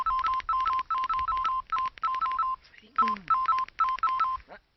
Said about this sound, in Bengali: কে ফোন করছে দেখি তো